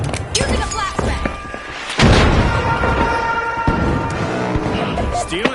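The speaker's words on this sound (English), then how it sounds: "Using a flashbang!" A flashbang grenade goes off in the shooter game The Finals, a sharp loud boom amid ongoing gunfire and thuds of a busy firefight, with a voice speaking over the noise.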